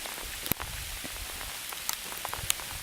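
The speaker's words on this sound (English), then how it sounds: "it's trying to rain, but it's so cold that the rain freezes before it hits the ground" Freezing rain and small hail fall on cold ground outdoors, giving sparse, faint ticks and light patters with a few sharper isolated hits over quiet hiss.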